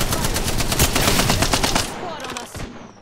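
Rapid automatic gunfire in a video game, loud and continuous bursts of shots that thin out toward the end, with game effects layered underneath.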